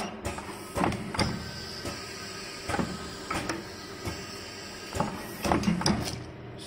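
A large single-color pad printer stamps logos onto shoe soles, giving a series of repeated mechanical clunks and thumps in an irregular rhythm over a steady machine hum. The sound is close and fairly loud, with no talk.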